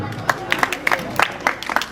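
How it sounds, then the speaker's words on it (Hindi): People clap at a school principal's retirement ceremony, scattered sharp claps in an uneven rhythm over about two seconds, close by and moderately loud. "जोरदार तालियां बेटा।"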